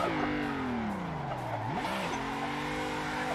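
Car engine in a drift simulator video game held at full throttle, a steady droning whine that sags in pitch, briefly rises and dips, then settles and holds, alone without talk.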